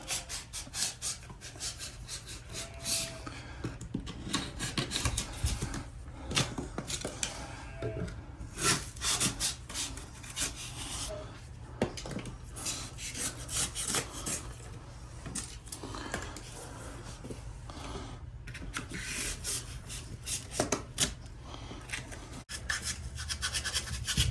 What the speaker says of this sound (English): So I'm going to cut off this excess foam.